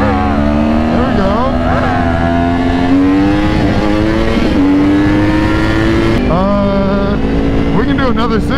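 A Yamaha R1 sport bike accelerates hard in second gear during a roll race, its loud, close engine note climbing steadily in pitch with brief shift dips, the wind roaring underneath.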